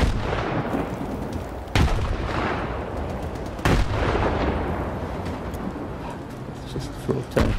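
Grenade blasts in Stalker 2 boom loudly at close range, with two sharp detonations and a rumbling tail after each, over dense swampy background noise, and someone talks between them.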